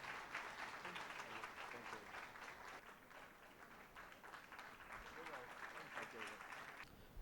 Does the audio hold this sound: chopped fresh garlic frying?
no